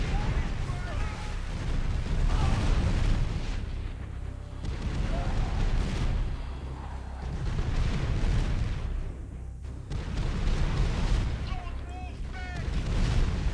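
Rocket towers fire in a strategy video game in a dense, continuous barrage of booming and rumbling blasts. The roar stays loud throughout and a voice talks over it.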